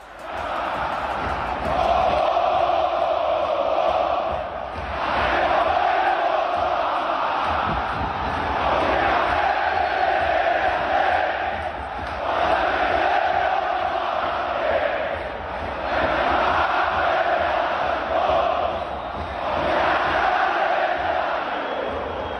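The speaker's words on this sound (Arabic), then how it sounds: "هتافات ثالثه شمال وجماهير النادي الاهلي" Al Ahly football fans chant in rhythmic waves from the stadium stands, a loud massed crowd rising and falling in repeated phrases of roughly two and a half seconds.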